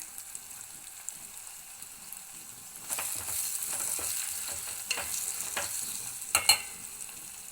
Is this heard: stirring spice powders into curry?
yes